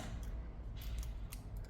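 Scissors snip through crochet yarn, a short close creak with a few faint crisp clicks of the blades, quiet and alone.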